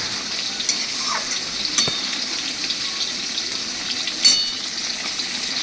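Raw oil sizzles and fries steadily in a pan over a very low gas flame while a Bengali vegetarian doi potol curry is cooked. Faint crackles and a few sharper spatters pop out, with no voices heard.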